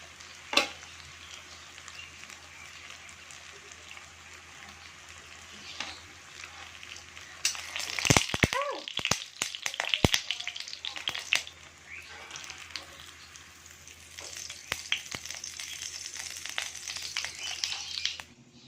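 Tofu frying in oil in a pan, a quiet continuous sizzle that swells into louder crackling and spatters with a few utensil clinks midway, then settles back into a steady hiss.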